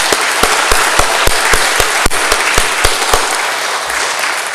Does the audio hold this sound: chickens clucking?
no